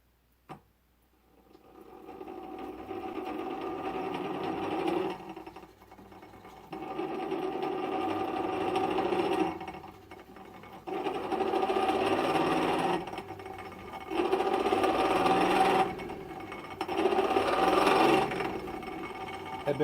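Gearbox of an old Champion blacksmith forge blower, newly packed with heavy grease after long dry storage, whirring and clattering in repeated bursts of a few seconds each, with short pauses between.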